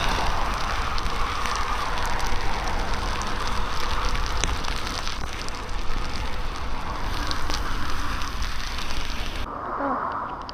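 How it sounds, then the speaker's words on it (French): Steady rain pours down outdoors near the Dutch coast between Noordwijk and Katwijk, a dense, close hiss of drops on the surfaces all around that holds unbroken for about ten seconds before easing slightly at the very end. "Bon bah il pleut bien, je suis toute trempée."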